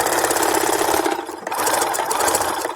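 A sewing machine runs in steady close bursts, backstitching seams on a fabric Christmas stocking, with a brief pause in the middle before the motor whirs up again.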